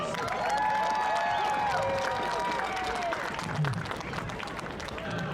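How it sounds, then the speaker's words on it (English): A crowd applauds at a high school homecoming event between Newton High and Salina Central, with a steady wash of clapping and some cheering, and voices audible over it. "Let's give a round of applause for Lucas and Sarah."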